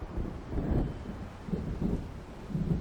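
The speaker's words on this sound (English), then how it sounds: "It seems there's a storm coming." In the video game Alan Wake, thunder from an approaching storm rolls as a low, rumbling, continuous murmur with swelling pulses, heard at a distance with a windy wash over it and no speech.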